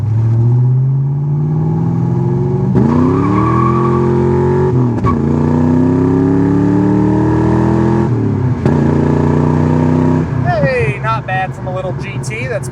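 A 1988 Ford Mustang GT convertible with a stock 5.0 V8 revs up and pulls through gear changes, its engine note rising, dropping at each shift and rising again, loud and close throughout, with someone talking over it.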